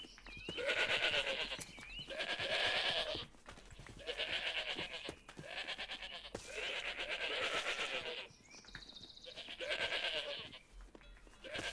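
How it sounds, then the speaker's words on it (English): Sheep in the game Minecraft bleat repeatedly, a run of loud, close wavering calls in steady succession, roughly one every two seconds, with no talking over them. "the sheep are very noisy"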